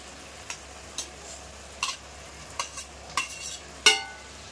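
Fried paneer going into simmering curry for matar paneer, with quiet, sparse stirring taps and clinks, about six short strokes over a low background hiss, fairly close and faint.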